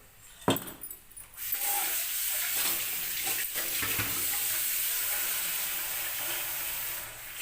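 Boiled sago pearls are rinsed under water: a few light clinks and splashes, then a steady stream of running tap water pours continuously and close.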